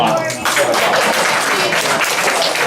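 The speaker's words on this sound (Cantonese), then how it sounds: "今日啊，俾啲掌聲景師好嘛？" Applause for the musician at a Christmas party, a dense burst of clapping from a crowd lasting throughout, with voices mixed in.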